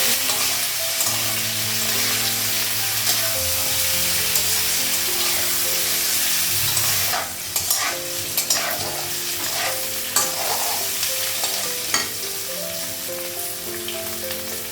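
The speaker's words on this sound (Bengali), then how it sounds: "একটু ভেজে নিয়ে তারপর মশলা দিয়ে নেব" Sliced radish and potato fry in a pan with a continuous close sizzle, broken by repeated scraping and clattering stirs of a spatula.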